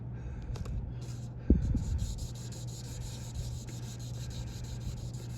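Fine 2500-grit sandpaper rubbed back and forth over a pitted electric fuel pump part, a soft steady rasping close by with one sharper knock partway through under a constant low hum.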